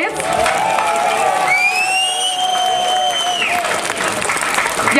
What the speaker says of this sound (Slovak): Chce to len potlesk